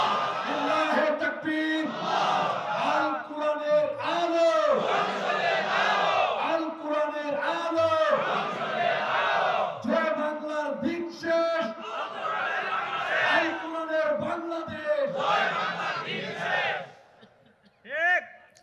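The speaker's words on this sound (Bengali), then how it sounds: "স্লোগান" A large crowd at a Bangladeshi religious political rally shouts slogans in rhythmic, call-and-response bursts. The loud, massed voices continue nearly without pause, with cheering and cries mixed in, and taper off near the end.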